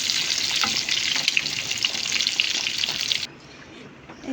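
Chicken pieces frying in a little oil, a loud bright crackling sizzle close by that cuts off abruptly partway through, leaving quiet room noise.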